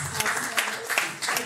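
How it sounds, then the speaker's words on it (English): An audience claps at a mindset seminar, a brief burst of scattered hand claps with a few sharper individual slaps over a murmuring room. "Please give her a round of applause just to encourage her."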